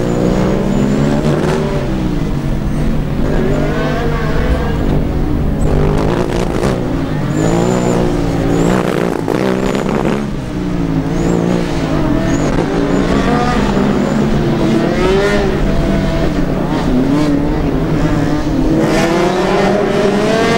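Formula Student race cars at a 2009 endurance event pull away, the engines revving and rising in pitch, loud and close, with a commentator talking over them.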